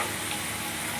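Chana dal frying in a pan for pulihora, a steady dense sizzle with faint stirring, close and continuous with no talk.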